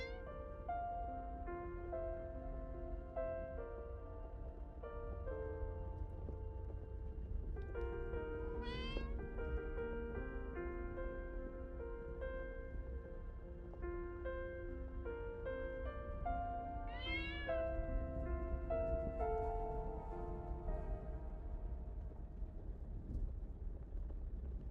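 A cat meows in the game Copycat, with two drawn-out, rising meows sounding faintly over a steady soft musical background and low hum.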